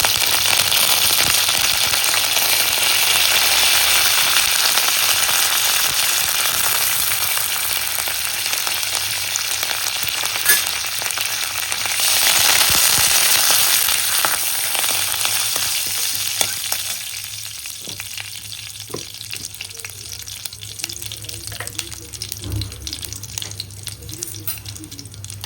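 Curry leaves crackle and sizzle loudly in hot oil while idli fry is cooked, a dense continuous frying hiss that softens partway through and trails into quieter spattering and faint clinks.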